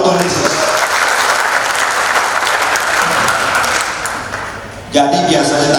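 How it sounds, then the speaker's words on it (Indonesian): A church congregation breaks into sustained applause after a prayer, a dense, loud wash of clapping that thins slightly before fading, followed by a voice beginning to speak. "Tepuk tangan buat Tuhan Yesus."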